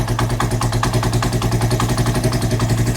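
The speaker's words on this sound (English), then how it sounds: "See? The revs increase now." Motorcycle engine with an idling fault, its revs climbing on their own while the rider works on a hose; a close, steady, pulsing mid-pitched engine note throbs evenly throughout without any talk.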